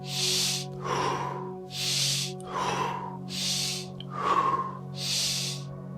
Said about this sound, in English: I will show you 10 breaths. Belly, chest, pursed lips out.